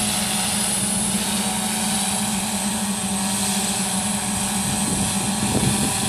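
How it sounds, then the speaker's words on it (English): A DJI S900 multirotor drone flies carrying a heavy payload of about 14.2 lb on a Tattu 6S 16,000 mAh battery, giving off a steady, loud propeller whine and hum with a low drone tone throughout, no voices. "You can see how well it's handling right now."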